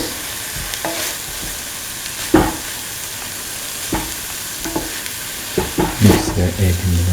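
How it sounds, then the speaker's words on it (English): A utensil stirs egg and cooked vermicelli pasta in a hot pan, with a steady sizzle of frying under repeated scraping strokes and soft knocks against the pan, close up and without speech. "Mix the egg and the vermicelli pasta thoroughly."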